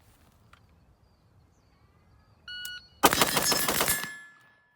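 Rapid string of six gunshots fired on a range with a Tactical Edge Advanced Warfighter trigger, preceded by a shot timer beep, sharp cracks in quick succession with echoing decay, fairly loud.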